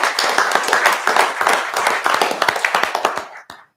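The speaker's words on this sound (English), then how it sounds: "So give a round of applause for our new teachers of the year." Clapping for newly named teachers of the year at a school board meeting, a modest room of hands that thins to scattered individual claps before stopping abruptly.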